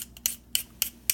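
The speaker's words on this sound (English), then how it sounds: "I use a peeler to peel the ginger" A Tefal vegetable peeler scrapes across fresh ginger root in four short, crisp strokes. Each stroke is close and distinct, with a brief gap before the next.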